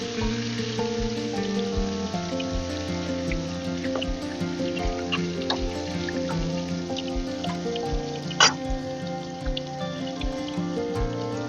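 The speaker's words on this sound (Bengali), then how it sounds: "এবার এর মধ্যে মাছগুলো দিয়ে ভেজে নেব।" Fish fry in hot mustard oil in a pan with a steady, even crackle, and faint clicks and a single sharp tap partway through.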